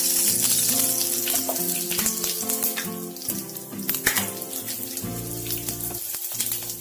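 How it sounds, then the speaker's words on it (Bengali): Hot water pours into a pot of boiled lentils for dal maharaj, a steady splashing, gurgling rush that fills nearly seven seconds at close range with no talking. "আমার এটার মধ্যে গরম জল মেশাচ্ছি"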